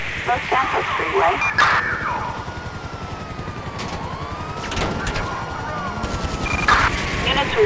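Gunfire during a police chase in Grand Theft Auto V on a freeway, with sirens wailing and rising and falling through bursts of shots, while police radio dispatch talk runs over the top.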